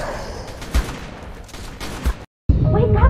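Gunfire in the ARK: Survival Evolved game, a few sharp bursts standing out over a busy mix of game sound and talk, with a brief silent gap near the end.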